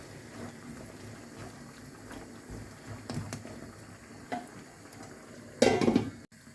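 Goat meat korma being stirred and sautéed in a pot, with soft sizzling, occasional spoon knocks and scrapes against the pan, and one louder clattering burst near the end, quiet and close without talk.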